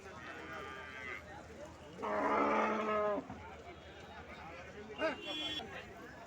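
Jersey cattle moo loudly nearby at Anantapur cattle market, a long, drawn-out call, with another shorter moo later, amid background chatter of people talking.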